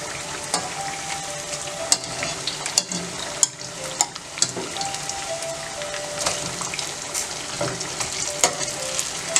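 Banana fritters made with rice flour and maida batter sizzle steadily in hot oil while being turned one by one, with a busy crackle and sharp pops and clinks over the frying.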